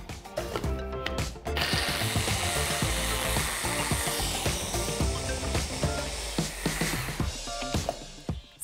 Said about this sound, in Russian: И все это блендерим.